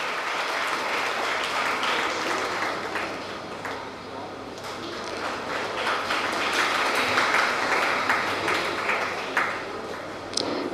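Applause from an audience at an educational institution's felicitation ceremony for top SSLC, PUC and degree students, steady and continuous with occasional sharp taps and a voice over the sound system.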